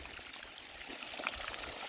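Irrigation water flows down the rows of a corn field as a soft, even, continuous rush with gentle trickling, faint and fairly distant, with no voices.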